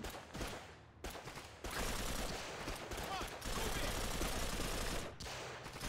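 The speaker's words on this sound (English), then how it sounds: "I just shot Hawkins." Rapid gunfire from the World War II shooter Call of Duty 2, Big Red One, with dense automatic bursts and overlapping shots in a noisy combat scene, interrupted by brief pauses.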